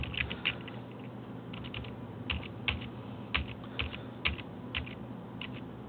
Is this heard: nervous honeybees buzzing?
no